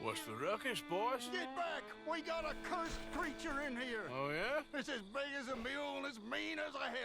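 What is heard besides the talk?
No everyday noises stand out.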